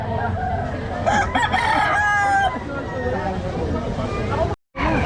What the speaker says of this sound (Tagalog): Ayan yung mga pangkatay na manok.